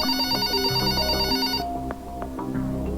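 A telephone rings in a horror movie, Lights Out (2016): a bright, bell-like electronic ring sounds loudly for over a second, stops abruptly, then gives way to quieter low musical tones.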